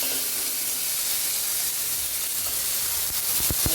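Rice hits hot ghee with cumin seeds in a pan, giving a steady, loud, broad sizzling hiss throughout, with a few knocks near the end.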